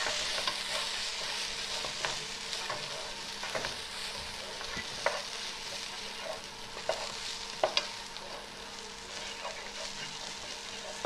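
Ginger garlic paste being sautéed with sliced onions in a pan for kadai chicken, a continuous close sizzle with light scraping and stirring clicks throughout.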